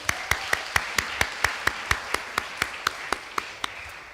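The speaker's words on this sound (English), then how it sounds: "So please give all of them a round of applause." Scattered clapping at a finance forum event, a sparse run of evenly spaced single claps rather than a full crowd, fairly quiet with no talk over it.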